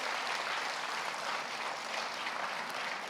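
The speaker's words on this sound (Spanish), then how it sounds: "Fuerte ese aplauso para el Señor." In a church service, a congregation claps steadily in a dense, even burst of applause that lasts the whole stretch, with no voices on top.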